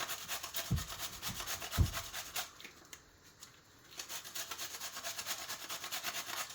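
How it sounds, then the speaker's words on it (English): Zucchini rubbed against a cheese grater for a spice cake makes soft, rhythmic rasping strokes up close, with a couple of heavier knocks early on and a brief lull midway. "So I'm going to take this cheese grater right here and grate the zucchini."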